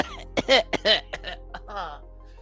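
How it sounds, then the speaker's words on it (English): Someone coughs several times in quick, harsh bursts close by, trailing off into rougher throat-clearing sounds. "that's when you hear some coughing coming out from the doorway."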